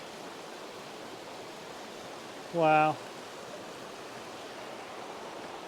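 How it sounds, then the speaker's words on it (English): A creek beside a hiking trail on the Chattooga River Trail in the Ellicott Rock Wilderness flows with a soft, steady wash throughout, briefly interrupted by one short spoken exclamation. "This is a beautiful creek coming in here."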